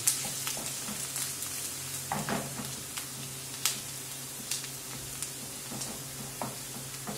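Vegetables sizzling in a pan for a wheat pilaf as their liquid cooks off and the edges caramelize, a steady close frying hiss with occasional stirring clicks and no talk.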